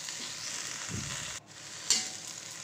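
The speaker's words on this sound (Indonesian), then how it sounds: "Nah ini kita bolak-balik kangkungnya biar matang merata." Water spinach (kangkung) with fried tofu and salt sizzles steadily in a hot pan while being tossed, with a short metallic scrape of turning partway through.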